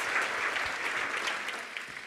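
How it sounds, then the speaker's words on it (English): Audience applause at a tourism conference session on content and storytelling: a steady, dense clapping from a crowd, fairly loud and continuous, tapering slightly near the end. "Please give Laura a big round of applause."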